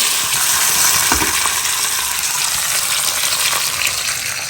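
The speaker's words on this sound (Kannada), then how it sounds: "ಎಣ್ಣೆ ಸ್ವಲ್ಪ ಬಿಸಿ ಆಗ್ತಿದ್ದಂಗೆ ಹಿಂಗೆ ಹಾಕ್ಕೊಳ್ತಾ ಇದ್ದೀನಿ ಅದೇ ಸಾಸಿವೆ ಕಾಳು ಹಾಗೆ ಕಟ್ ಮಾಡ್ಕೊಂಡಂಥ ಒಂದು ಬ್ಯಾಡಿಗೆ ಮೆಣಸು ಹಾಗೆ ಒಂದು ಹಸಿ ಮೆಣಸು ಕರಿಬೇವಿನ ಸೊಪ್ಪು" Mustard seeds, cut dried red chilli, green chilli and curry leaves tempering in hot oil, giving a loud, dense, continuous sizzle and spatter up close, with a brief stir knock early on and no talking.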